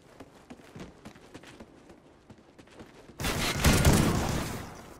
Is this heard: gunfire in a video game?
yes